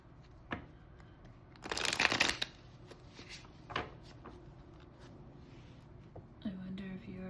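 Tarot cards handled close up, with soft taps and slides, a brief burst of riffling shuffle, and a card drawn from the deck, over quiet room tone and light background noise.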